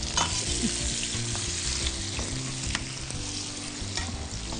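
Ripe, peeled tomato frying in a pan, a steady close sizzle and crackle with occasional clicks and scrapes from stirring throughout.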